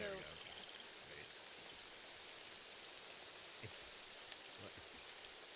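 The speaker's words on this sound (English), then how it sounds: "I like the rain sounds." Steady rain ambience in the video game Nancy Drew: Legend of the Crystal Skull, a constant bright hiss with faint low patters underneath, even and continuous throughout.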